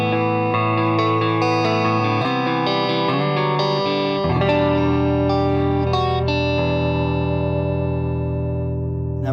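Electric guitar chords played through a small Harley Benton tube combo amp with an 8-inch speaker, a series of sustained, slightly gritty strums ringing out loud and close, with the last chord left to fade.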